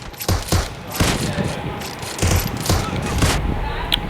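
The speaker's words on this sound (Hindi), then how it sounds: "किसी और पे गोलियां बरसाओ" Bursts of automatic gunfire from the PUBG battle royale game rattle in quick volleys, loud and close, with a voice talking over the shooting.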